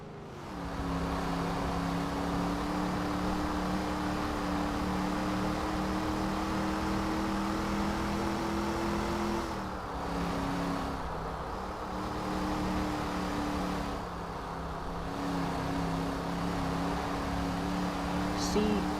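A third-generation Camaro IROC-Z engine drones steadily through a timed lap, close and continuous, its pitch holding level, then dipping briefly on lifts and shifts before climbing again, with faint talk in the background.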